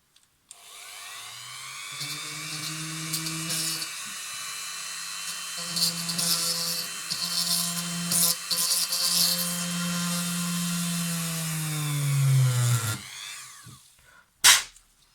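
Handheld power drill running a 1.2 drill bit: a steady high whine that spins up and holds for about twelve seconds, wavering slightly as it bites, then winds down and stops with a clunk.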